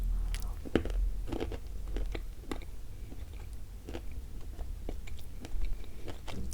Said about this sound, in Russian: Есть небольшой хруст, в меру плотненькая